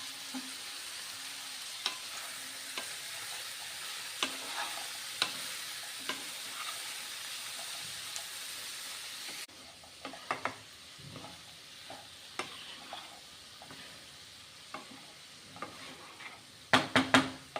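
Bhogichi bhaji vegetables sauté in a pan with a steady sizzle and the occasional scrape or clack of a spoon stirring. The sizzle grows quieter partway through, and a few louder clatters come near the end.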